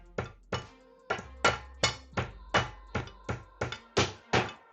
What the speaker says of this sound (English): And this is where we get the hammer out.